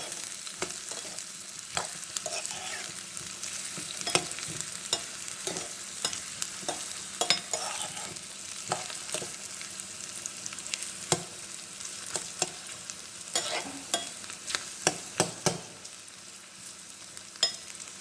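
Onions frying in a pan for mutton chops, cooked down hard as for biryani, give a steady sizzle for the whole stretch, broken by frequent clacking stirs and scrapes of the spoon against the pan, with no talking.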